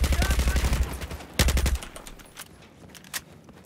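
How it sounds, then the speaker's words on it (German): Rapid automatic gunfire from the video game Battlefield 4, a close stuttering burst followed by a second short burst and scattered fainter shots, with occasional voice in the background. "ich schieße die Leute gerade permanent an, aber sie fallen einfach partout nicht um"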